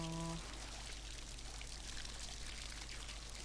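Water splashing and pouring in the game Singularity, a steady faint wash of trickling, streaming water heard alone after a brief tonal hum fades at the start.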